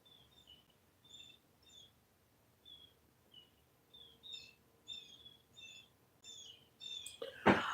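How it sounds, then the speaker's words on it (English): Bright, distant bird chirps repeat in short bursts through an open window, with a close cough-like burst near the end. "I got my living room windows open and the birds are just going crazy"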